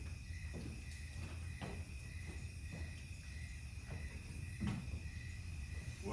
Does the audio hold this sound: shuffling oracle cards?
no